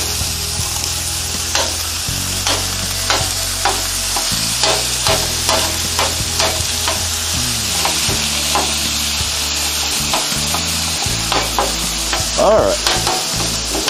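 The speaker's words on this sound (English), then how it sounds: "we've got 2 pounds of ground lamb that we're going to throw on the griddle, and we're going" Two pounds of ground lamb sizzle steadily on a hot griddle while a spatula repeatedly scrapes and chops through it in a quick, irregular rhythm; the sound is close and loud, and a voice speaks briefly.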